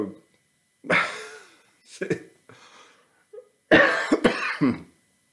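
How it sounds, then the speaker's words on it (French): Several sharp, close coughs in short bursts separated by pauses, ending in a longer cluster of harsh coughs, with throaty noises between them. "Moi j'en tousse hein, tellement c'est énorme."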